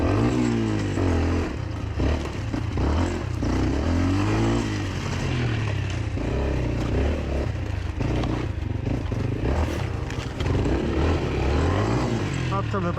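Beta RR 125 LC enduro motorcycle being pushed hard off-road, the engine revving up and down repeatedly, loud and close throughout, with clattering and a rider's voice heard over it at times.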